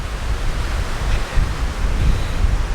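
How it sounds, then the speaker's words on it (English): Strong wind blowing through large trees in an old hillside cemetery, a steady, loud broadband rush with gusting swells and no voices. "Another huge tree that seems to be very precariously blowing in the wind."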